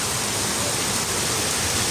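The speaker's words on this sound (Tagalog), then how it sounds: "Lakas ng ulan" Heavy rain pouring during Typhoon Enteng, a dense, steady hiss of downpour, loud and unbroken, with no voices over it.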